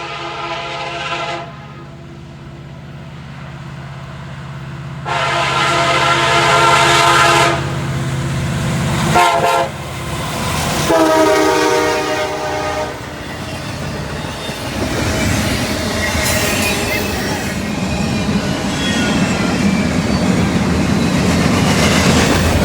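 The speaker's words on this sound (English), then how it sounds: "They even gave us a horn salute." A CN intermodal freight train led by an SD70M-2 locomotive, with an SD75M second, sounds long loud horn blasts, then passes with roaring engines and rolling rail clatter, very close and loud.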